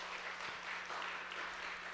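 Applause from a church young-adults congregation after thanks to the mission team, a soft, steady patter of clapping that sounds distant and faint throughout.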